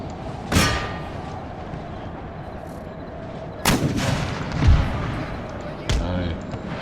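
Grapeshot cannon fire in the Empire: Total War video game booms in several sharp, heavy blasts spaced a few seconds apart over a low battle rumble, with a voice speaking in between.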